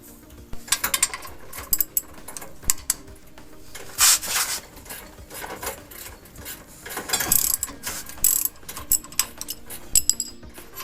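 A ratchet wrench clicks in quick bursts while the shock is disconnected at the axle of a 5th-gen Toyota 4Runner, with irregular close ratcheting and metallic clanks in a garage.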